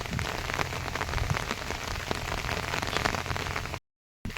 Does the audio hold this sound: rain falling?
yes